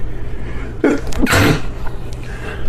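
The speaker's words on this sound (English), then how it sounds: "Hang on, I'm gonna sneeze." A single loud, close sneeze with a sharp inhale just before it, followed by quiet room tone.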